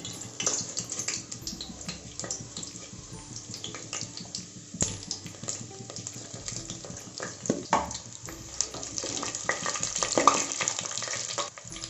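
Cinnamon, cloves, cardamom, cumin and fennel fry in hot oil for goat biryani, a continuous close sizzle with stirring clinks and scrapes throughout.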